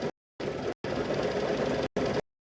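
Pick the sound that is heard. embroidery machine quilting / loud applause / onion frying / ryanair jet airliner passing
embroidery machine quilting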